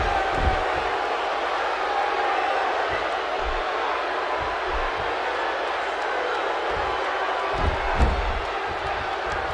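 A wrestling crowd in the WWE 2K16 video game roars steadily in the background, a dense continuous wash of arena noise with occasional low thuds from the ring.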